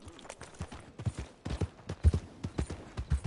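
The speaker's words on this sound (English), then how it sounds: "My horse!" Horse hooves clip-clop in a video game, a quiet, quick and uneven run of hollow knocks that patters steadily throughout.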